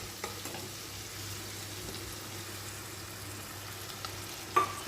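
Onion frying in a pan for a pointed gourd and prawn dish, a steady soft sizzle throughout with an occasional light stir or scrape near the end, no voices.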